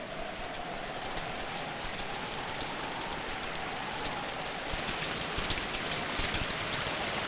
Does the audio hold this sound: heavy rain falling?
yes